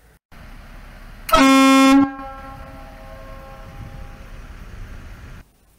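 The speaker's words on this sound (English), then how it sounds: "So when we took it out to the lake and we honked the horn" Air horns mounted on a small tank, sounded across a lake outdoors: one loud, sustained blast of about a second, followed by a long echoing tail and steady background noise.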